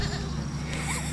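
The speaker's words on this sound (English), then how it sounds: "Goats. Right across the road," Goats bleat from across a roadside, a few calls carrying over a steady outdoor background hum at moderate distance.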